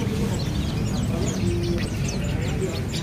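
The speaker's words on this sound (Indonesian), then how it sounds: "Untuk di kios ini ready juga burung kenari seri F2-nya ya." At a bird kiosk selling canaries, thin, bright chirps and tweets from caged birds sound repeatedly over a constant low hum, while someone speaks over them.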